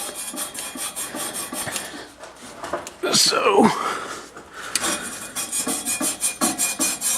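Copper pipe being scrubbed clean before soldering shutoff valves gives steady, close rasping strokes in a quick repeated rhythm, with a short clatter of handling midway, under a brief spoken word.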